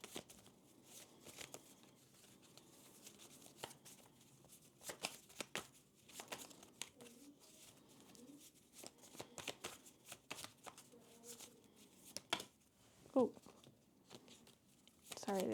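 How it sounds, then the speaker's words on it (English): Repeated crisp riffling and snapping of a hard-to-shuffle Adventure Time divination card deck being shuffled, in short bursts, with a brief spoken word partway through. "this deck is hard to shuffle."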